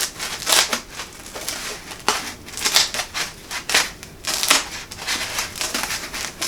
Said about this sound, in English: I'm going to insert the scissors at the top and then just cut down